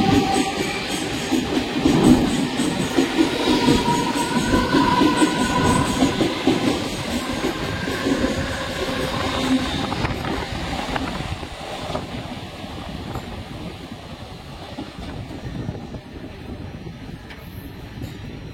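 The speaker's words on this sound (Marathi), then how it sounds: "मुंबई छत्रपति शिवाजी महाराज टर्मिनसला जाणारी ही लोकल थोड्या वेळा प्लॅटफॉर्म क्रमांक 2 पर येत आहे" A Mumbai local train runs through a railway station, its steady rumble and clickety-clack of wheels on rails filling the scene throughout, loud and close with a faint screech of wheels at moments.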